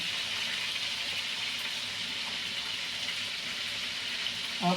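Oil sizzles steadily in a pan as it heats for garlic fried rice, a constant close broadband hiss with no pauses, and a brief small clatter right at the end.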